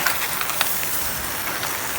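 Steady heavy rain pours continuously outdoors in Bangladesh, a dense even hiss with faint droplet spatter close by and no pauses.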